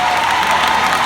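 Audience applause and cheering at a church testimony service, a loud dense burst of clapping filling the whole moment, no speech over it.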